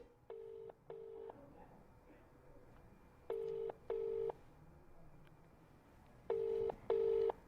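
A telephone ringing tone sounds in three pairs of short, steady beeps, with quiet pauses between the pairs and faint background noise.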